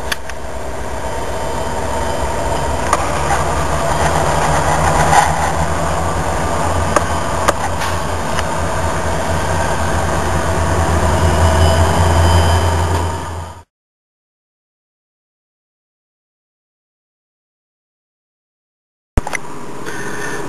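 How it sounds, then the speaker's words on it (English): A Union Pacific freight train rolls out westbound, its steady rumble and low engine drone holding loud for about thirteen seconds, then silence before the sound briefly returns. "The UP8464 West with what I believe to be the MLIFW is now departing"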